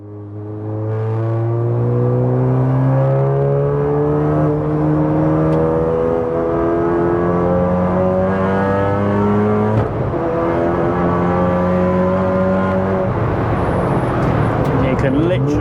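A modified MK7 VW Golf R track car lapping a circuit, its engine loud and close throughout, droning and rising in pitch through repeated gear pulls with brief shift breaks.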